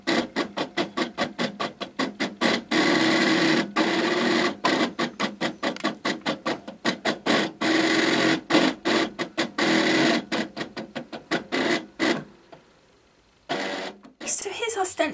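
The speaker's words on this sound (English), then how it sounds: "we're going to go and cut that out now on my Cricut" A Cricut cutting machine cuts a card stencil with rapid rhythmic clicking and whirring motor bursts, loud and close, broken by short pauses, with someone talking over it.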